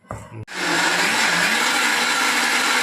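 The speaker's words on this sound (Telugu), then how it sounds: "కడిగేసాను, పప్పు రుబ్బేస్తాను." A mixer grinder whirs steadily while grinding washed, soaked dal into batter, starting abruptly after a brief pause and running loud and continuous throughout.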